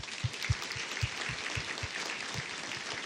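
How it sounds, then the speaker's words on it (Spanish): A church congregation applauds the servers, a continuous wash of clapping with a few louder low thumps spaced through it, fairly steady and without talk. "Ahora vamos a darle un fuerte aplauso a los servidores."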